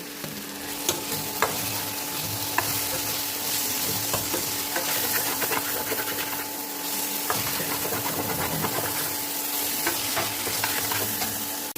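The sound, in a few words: frying onions and chillies in a pan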